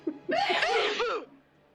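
A person sneezes once with a short intake, then a forceful, breathy burst lasting about a second, clear and fairly close in a quiet room.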